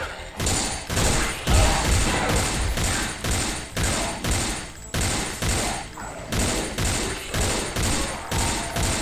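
Rapid pistol gunfire in the GZDoom video game, loud sharp shots in quick bursts repeating steadily across the whole stretch with brief gaps between volleys.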